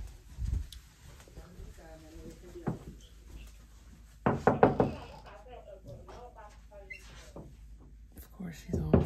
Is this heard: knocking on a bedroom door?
yes